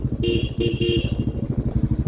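A Bullet motorcycle horn honks three times in quick succession over the steady thumping idle of its engine during a night ride.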